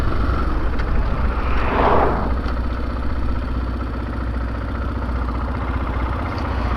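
A motorcycle engine idles with a steady low throb, briefly louder near the start before settling into an even rumble.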